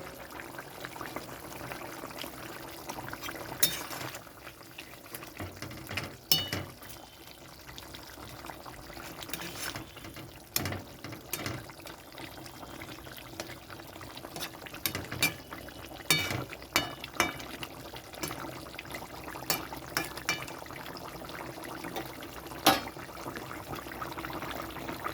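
Fried catla fish slide into a simmering potato and papaya curry, giving a soft, continuous liquid bubbling and wet stirring with scattered splashes and clinks close by.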